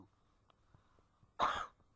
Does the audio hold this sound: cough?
yes